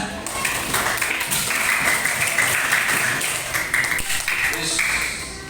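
A classroom of students claps for a group that answered questions correctly, a dense steady patter of many hands lasting throughout, fairly close, with voices mixed in.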